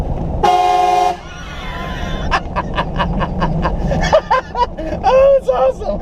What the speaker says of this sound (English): Is it like a train horn?